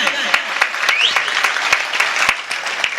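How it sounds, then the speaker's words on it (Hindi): Audience clapping together at a Holi poetry gathering in Bareilly, dense close applause with sharp individual claps and a few excited voices in the crowd, loud and continuous. "एक बार मिलकर तालियां बजाएं।"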